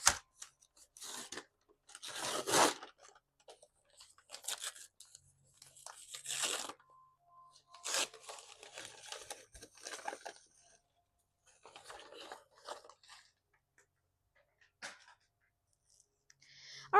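Paper wrapping around a potted Proven Winners Sugar Shack plant crinkles and crunches in bursts of close rustling, with quiet pauses between handlings.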